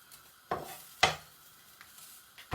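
A few sharp spatula scrapes and taps against a pan as a sweet potato quesadilla is flipped, over a faint, steady sizzle.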